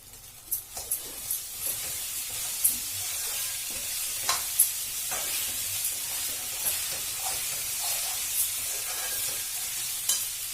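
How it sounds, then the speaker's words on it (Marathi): Sago pearls tumble into a pan of cooking potatoes for sabudana khichdi, a soft steady sizzle broken by scattered clicks and scrapes as the pearls land and get stirred, fairly quiet and close. "आता आपण साबुदाणा घालू।"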